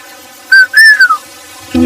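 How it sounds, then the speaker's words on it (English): A person whistles a signal call: a quick rising note followed by a longer sliding tone that falls away, sharp, close and clear, ending abruptly as another sound begins. "she would do that whistle"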